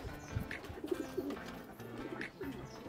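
Racing pigeons cooing close by in a loft, soft low throaty coos repeating in short phrases over a faint background murmur, fairly quiet overall.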